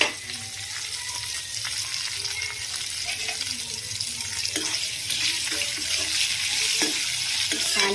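Chopped onion and green chillies frying in a pan for wheat rava upma, a steady hiss of sizzling oil with occasional stirring scrapes, close and fairly loud, no talking.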